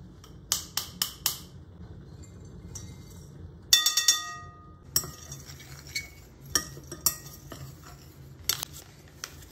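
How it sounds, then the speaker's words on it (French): Ingredients are mixed in a bowl with clinking utensils: bursts of sharp metal-on-bowl taps and clinks in quick groups, separated by quiet gaps, with no talking. "Et on va mélanger tous les ingrédients."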